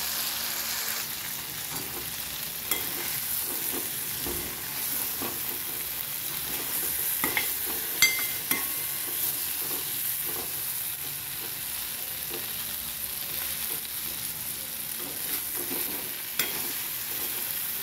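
Stuffed eggplant (bharli vangi) with tomato and coriander fries in a covered pan, giving a steady close sizzle with scattered pops and soft crackles throughout, without any voices.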